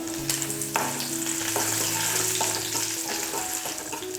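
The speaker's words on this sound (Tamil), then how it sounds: "பருப்பெல்லாம் நல்லா வறுந்துடுச்சு." Urad dal, chana dal, mustard seeds and curry leaves sizzle and crackle in hot sesame oil for a chutney tempering, a close, steady fry with a few sharp pops and stirring.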